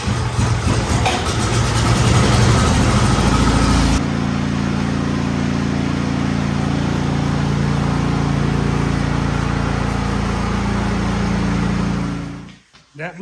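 A Troy-Bilt Storm Tracker 2890 snow blower engine starts with a loud rough burst, then settles into a steady close idle before cutting off at the end.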